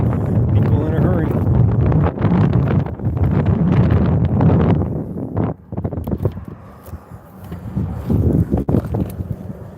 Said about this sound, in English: the wind is picking up out here